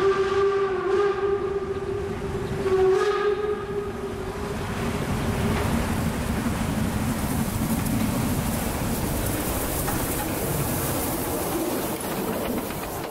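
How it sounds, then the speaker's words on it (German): A narrow-gauge steam train of the Harzquerbahn pulls out of snowy Drei Annen Hohne station with a whistle blast early on, then a steady rumble of wheels and chuffing that continues throughout. "verlässt hier mit einem Zug nach Eisfelder Talmühle den Bahnhof Dreiannenhohne"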